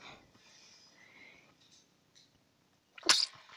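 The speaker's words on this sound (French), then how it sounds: "J'ai éternué." Near the end comes a single sharp, loud human sneeze, after a stretch of quiet room noise with faint murmuring.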